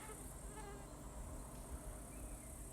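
A swarm of bees flies around a hollow log hive and frame trap, a dense, continuous buzzing drone with many overlapping wingbeats close by, without speech.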